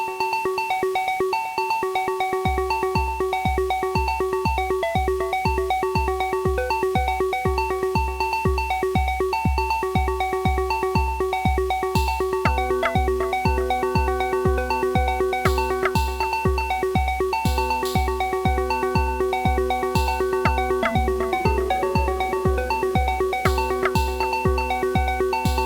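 Repetitive electronic acid pattern from an Erica Synths Acidbox III synthesizer over a steady pulsing bass line, with a bright sequenced melody and layers added as it continues, no voices.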